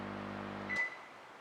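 A GME 720 GF1 PZ microwave oven starting in grill combination mode: a steady low hum cuts off, followed by a short high beep, then quiet.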